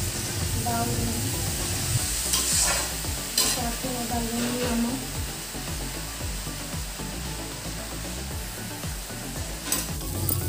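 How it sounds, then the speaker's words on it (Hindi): Steady frying sizzle as dry chillies fry in hot oil, with stirring clatter from a utensil, a few sharper pops and scrapes, and brief voices now and then. "सिर्फ सूखी मिर्चा से ही मैं उसे मतलब छौंक लेती हूँ"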